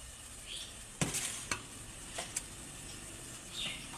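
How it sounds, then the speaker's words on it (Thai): A soft, steady bubbling of water boiling in a pot for tom yum, with a few sharp clicks and clinks of utensils over the hiss. "นนี้คือน้ำเดือดแล้วนะคะ"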